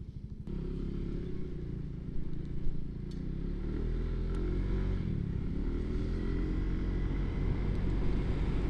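A Suzuki Address 110 scooter starts up abruptly and then hums steadily at close range while being ridden, with the engine drone rising and settling as it pulls along.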